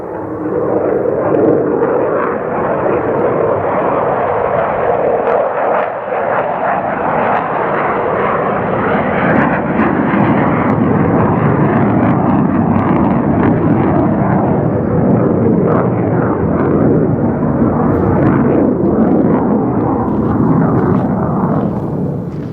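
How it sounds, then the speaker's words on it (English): A loud, steady roar of an aircraft passing overhead, sustained throughout with a broad rumbling wash and no voices. "There's a lot of airplane and helicopter traffic right at the moment."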